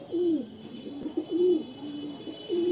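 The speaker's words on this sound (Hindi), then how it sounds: "ये देखिए सेल के लिए हैं कबूतर, ये मादा है" Dark green, short-beaked pigeons kept for sale coo in three soft, rolling phrases, close by and evenly spaced, with no other sound competing.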